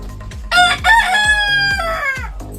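A rooster crows loud and close in one long drawn-out call, while other chickens cluck steadily underneath.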